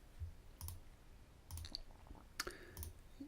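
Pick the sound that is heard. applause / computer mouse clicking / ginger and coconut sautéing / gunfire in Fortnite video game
computer mouse clicking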